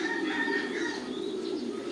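Pigeons coo steadily inside a sturdy steel cage at a tiered pigeon farm, a close, continuous throaty warble with faint chirps over it and no talking.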